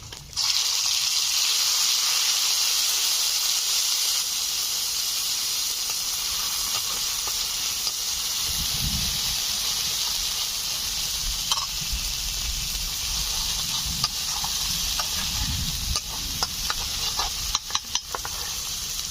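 Green chili, mustard and ginger paste with nigella seeds sizzles in hot oil in a pan. A loud, steady hiss runs throughout, with occasional soft stirring scrapes and taps near the end, and no talking.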